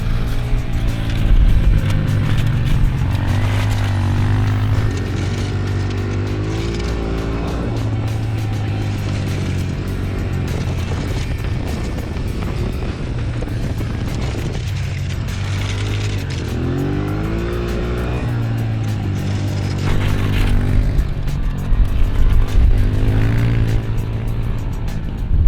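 A motorcycle laps a mini flat track oval, its engine droning loudly and continuously, with the pitch rising and falling in repeated sweeps as the bike accelerates and eases off around the turns.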